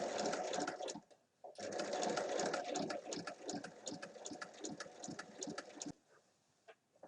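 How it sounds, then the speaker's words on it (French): A sewing machine stitches along the other side of a fabric bag handle in rapid, close bursts, pausing briefly near the start and stopping toward the end. "on va descendre pour piquer l'autre côté de la anse"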